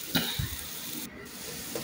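Spices frying in a pan for a potato and country chicken curry, a soft low sizzle with a couple of faint stirring scrapes near the start, brief and quiet.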